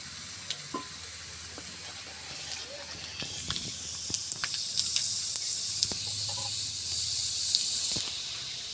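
Panch phoron spices crackle and sizzle in hot oil in a pan that already holds fried potato and bitter gourd, a steady bright hiss that grows a little louder partway through, with scattered pops and light stirring clicks.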